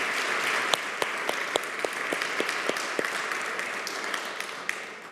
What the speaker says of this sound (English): Can we have another round of applause for our incredible panelists?